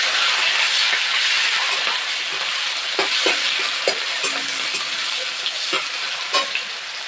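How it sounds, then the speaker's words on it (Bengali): Chopped onions and green chillies fry in hot oil with bay leaves for muri ghonto, making a loud, steady close sizzle broken by scraping stirring strokes. No voices are heard. "দিয়ে দিচ্ছি কেটে রাখা পেঁয়াজ কাঁচা লঙ্কা তো ভালো করে ভেজে নেবে"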